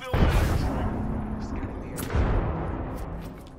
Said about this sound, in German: Hast du einen Airstrike hingeworfen?